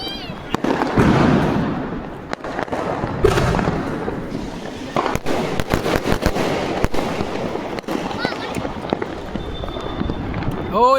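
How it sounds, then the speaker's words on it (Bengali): Diwali fireworks in Coimbatore, Tamil Nadu, a rapid irregular run of sharp bangs and crackles from several bursts, some close and loud, with whistling rockets near the end. "আরও একটা বোম ফোটা।"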